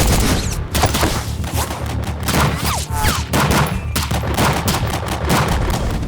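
Sustained volleys of rifle gunfire from a muzzle flash comparison test with muzzle devices, loud rapid shots layered over one another in dense overlapping bursts throughout, with no talking.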